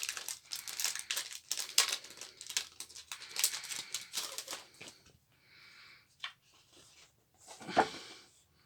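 Plastic-wrapped game manuals from a Shadow of the Colossus PS2 collection crinkle and rustle close up in steady bursts, then fainter intermittent handling with a sharp crackle near the end.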